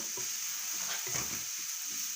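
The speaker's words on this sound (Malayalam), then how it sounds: "അതിലേക്ക് തേങ്ങ ചതച്ചത് ഇട്ട് കൊടുക്കാം. അതും നമുക്കൊന്ന് വറക്കാം." Crushed coconut tossed with reddened onions frying in a pan for cherupayar thoran, a steady close sizzle with irregular scraping stirs of a spoon against the pan, no voices.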